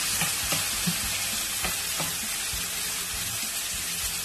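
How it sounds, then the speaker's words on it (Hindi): Chopped tomato and cumin seeds sautéing in hot oil in a pan, a continuous close sizzle broken by several sharp spatula taps and clinks, with no voices. "तो अच्छी तरीके से सौटे किया।"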